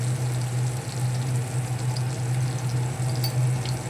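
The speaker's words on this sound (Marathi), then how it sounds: "आता ढवळून घेऊया थोडा मसाला पूर्ण तेलामध्ये मेल ठेवू दे" Malvani masala and half a spoon of turmeric stirred into hot oil over a low gas flame for a peas curry, giving a steady, close sizzle with faint scraping throughout, no voices.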